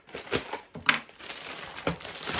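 Crinkly crunching and rustling of packing tape and parcel wrapping being pulled open, in several short bursts close by.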